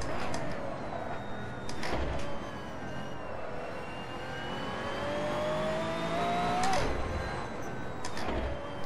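A Pagani Zonda R race car in the video game Assetto Corsa, its engine droning steadily with a rising whine as it revs up, then dropping off sharply, close and loud, with no talk over it.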